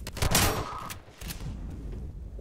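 Burst of gunfire from a Combine soldier in the Half-Life 2 video game, a loud rapid volley in the first second that fades into a steady low game rumble.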